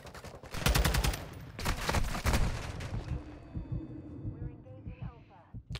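Gunfire in a Call of Duty multiplayer match: bursts of rapid shots packed densely through the first half, thinning to scattered single cracks and quieter game noise.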